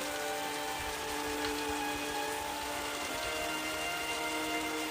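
Steady rain falls in a cartoon scene on a freezing cold night, a dense continuous patter on surfaces that stays even throughout, with no voices.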